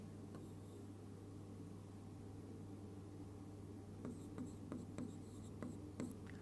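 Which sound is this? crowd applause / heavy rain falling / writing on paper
writing on paper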